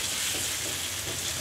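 Red and green chilies stir-frying in a pan for fried imin noodles, a steady close hiss and crackle of sizzling oil with light stirring throughout.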